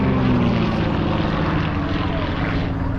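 Loud droning of propeller airplanes passing overhead in a formation loop at an air show, a sustained engine roar with shifting pitch as they fly together.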